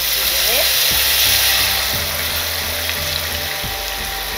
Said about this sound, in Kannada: ಆಮೇಲೆ ಬೇಯಿಸಿರೋ ಬೇಳೆ ಹಾಕ್ತಿದ್ದೀನಿ.